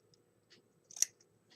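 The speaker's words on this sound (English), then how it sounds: "cut a little snip in the bottom" Scissors make a single quick snip while cutting a paper or fabric rose petal for a craft, preceded by faint clicks and handling, close and soft in a quiet room.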